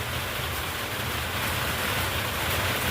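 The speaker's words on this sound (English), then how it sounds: "my art room is actually in an addition that has a metal roof, so it gets loud out here sometimes when it rains" Heavy rain drums steadily on the metal roof of an art room addition, a dense, loud, unbroken hiss-and-patter close overhead with no voices.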